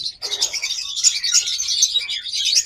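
A pair of Yellow Fischer red-eye lovebirds chirps in a steady, bright, busy stream of high twittering calls, close and fairly loud, running the whole time with no one talking.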